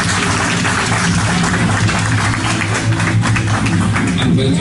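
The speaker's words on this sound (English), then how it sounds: "Let's have a round of applause for them all." A church hall audience applauds at a music graduation for piano students and choristers, with dense, loud, continuous clapping that holds steady for several seconds.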